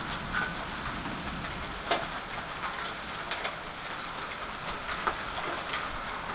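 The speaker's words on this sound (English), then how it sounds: "Okay, here comes more hail." Hail falling in a storm in Austin, Texas, a dense steady patter of ice striking surfaces, with a few sharper hits standing out, continuous and fairly close, no voices.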